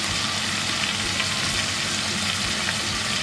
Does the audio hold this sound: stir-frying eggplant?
yes